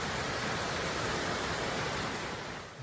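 A small waterfall beside the Pacific Crest Trail, about 2.5 miles outside Sierra City, gives a steady, dense rush of falling water with no voices over it.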